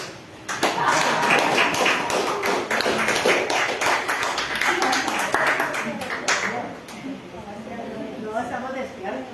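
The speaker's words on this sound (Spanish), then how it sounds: "Vamos a darle un aplauso al Señor" A church congregation claps together during a Spanish-language service, a dense run of close hand claps and taps lasting most of the stretch before thinning out, with voices mixed in underneath.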